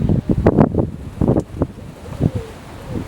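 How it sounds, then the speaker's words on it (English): Gusty wind buffets the microphone in irregular bursts outdoors during a VW Golf/Bora TDI oil change, loud and close with calmer gaps between gusts. "One problem you can probably see today is it's quite windy"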